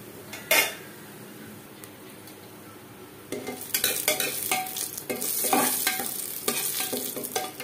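Dried red chillies, bay leaves and whole spices fry in hot mustard oil for a mutton curry, a steady close sizzle with repeated spoon stirring and metal scraping against the pot, no voices.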